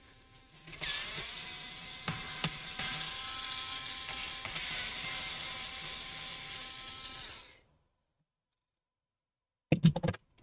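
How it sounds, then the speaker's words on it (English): A ratcheting screwdriver removes screws from an HP 15 ef1044nr laptop, giving a steady stream of close mechanical clicking for about seven seconds, then silence and a few brief knocks at the end. "Once you have removed all the screws,"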